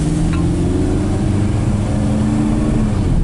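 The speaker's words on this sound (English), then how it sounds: "We're peeling the tires." A Chevrolet Equinox converted from all-wheel to front-wheel drive, with no traction control, spins its front tires, giving a loud, steady engine roar and tire noise that continue unbroken throughout.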